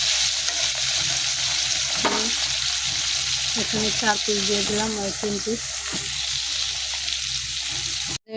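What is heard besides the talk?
frying pieces of dhela fish in a pan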